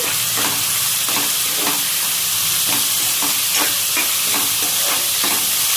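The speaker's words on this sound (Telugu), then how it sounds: "ఇప్పుడు ఆనియన్ని కలిపేసుకుందాం." Onions and green chillies frying in oil in a pan while being stirred, with a steady loud sizzle and rhythmic scraping strokes of the spoon at close range, with no talk.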